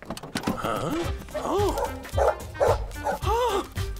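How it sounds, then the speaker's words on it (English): A grumpy dog on a residential street gives a run of yapping barks and whimpering yips, close and loud, with voices talking over and between them. "It's that grumpy dog."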